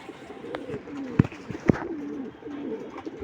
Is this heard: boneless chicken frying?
no